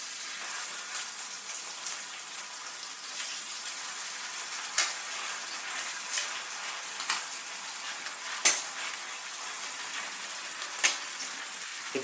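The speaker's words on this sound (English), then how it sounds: "Then you can flip the sausage over once it has finished browning on one side." Fried eggs and sausage sizzle in a pan with a steady, crackling hiss, punctuated by a few sharp pops and spits, no voices.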